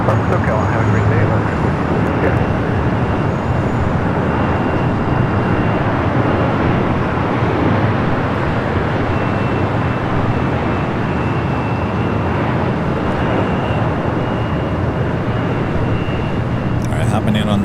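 Steady broadband jet roar of an airliner landing on the runway at Los Angeles International Airport, loud and continuous throughout with no voices.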